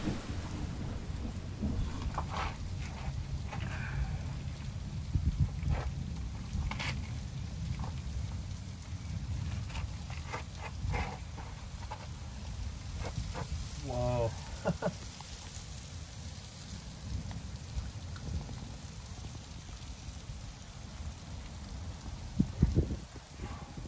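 Heavy rain pours steadily throughout a thunderstorm at Joshua Tree National Park in California, with rumbling thunder beneath and a few sharper close cracks near the end; faint voices are briefly audible under the downpour.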